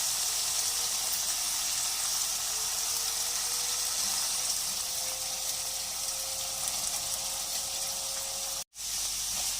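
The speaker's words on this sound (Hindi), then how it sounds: "वेजिटेबल को भी हम 3 से 4 मिनट के लिए फ्राई करेंगे" Vegetables and chicken fry in a pan with a steady, fairly quiet hiss and sizzle that runs almost unbroken, cutting out briefly near the end.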